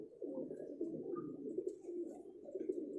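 Pigeons cooing at a breeder's loft, a continuous run of low, throaty coos layered from several birds close by, steady and soft with no talk over them.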